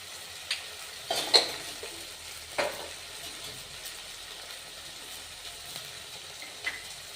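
A turmeric, coriander powder and salt spice mixture frying in a pan for an evening snack, with a soft low sizzle broken by a few sharp clinks and scrapes of stirring, no voices.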